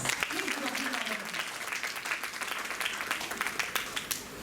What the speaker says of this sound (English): I think we should give them a big round of applause